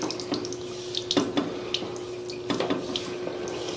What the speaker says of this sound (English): We still have water pushing its way through.